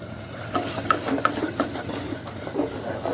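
Asafoetida and spices sizzle in a pan for egg curry while a spoon stirs them, giving a constant frying hiss broken by light, irregular scraping clicks up close.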